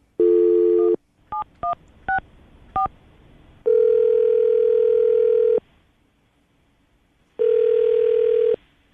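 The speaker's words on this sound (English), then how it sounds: "We're going to call him right now and see if we can get him on the phone." A dial tone, then a quick series of beeping keypad tones, followed by longer steady tones with a brief silence between them; loud and clear, no voices.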